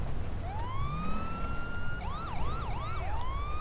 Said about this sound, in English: I think you just freak him out by the siren.